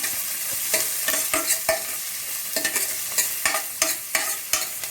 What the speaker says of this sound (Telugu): కొత్తిమీర, కరివేపాకు, కొన్ని స్ప్రింగ్ ఆనియన్స్ మిక్స్ చేసుకోవాలి